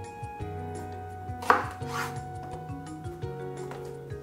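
A knife slices through a cucumber with a couple of crisp cuts near the middle, heard close and fairly faint over steady background music.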